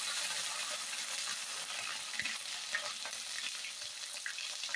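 Ginger garlic paste fries in oil over a full gas flame, giving a soft, even, continuous sizzle with faint crackles throughout and no speech.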